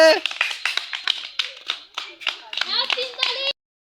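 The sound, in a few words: children clapping hands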